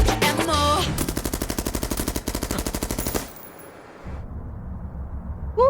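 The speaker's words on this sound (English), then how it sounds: "Wasn't ready for the gunshots." Rapid burst of loud, close gunshots in a K-pop music video, a dense rattling volley for about three seconds, then a sudden drop to a quieter rumbling tail with a faint high ring.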